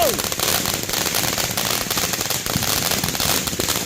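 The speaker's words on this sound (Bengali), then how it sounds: "বাসার সামনে ফায়ার ওয়ার্কস" Fireworks going off in front of a house during a family Fourth of July celebration in the USA, a dense, continuous crackle of firecracker bursts with sharp pops throughout, loud and close, with people talking underneath.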